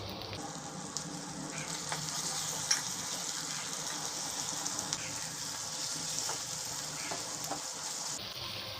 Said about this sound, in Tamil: இதை வந்துட்டு ஒரு 1 மினிட் போல் நல்லா ஃப்ரை பண்ணிக்கிட்டே இருங்க